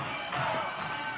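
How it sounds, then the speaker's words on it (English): A wrestling crowd roars and cheers in a short, continuous swell of many voices, distant and reverberant, filling the arena without a break. "Listen to the crowd,"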